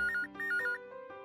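A phone ringtone plays a short, bright electronic melody of quick repeated tones, clear and alone for just over a second.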